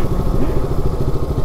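A Bajaj Pulsar 220 motorcycle engine runs close by with a steady, throbbing low-pitched putter throughout, no talk over it.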